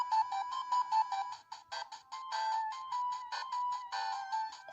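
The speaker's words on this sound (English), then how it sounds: "Goddamn phone." An electronic ringtone sounds near a Sega 16-bit clone console, a bright repeating beeping melody in quick pulsed bursts that runs throughout, clear and alone with no talk.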